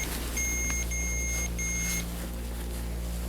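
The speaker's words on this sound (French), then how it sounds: "Il vient de faire bip" A paranormal investigation device gives a thin electronic beep, three tones in quick succession, then silence over a low steady hum.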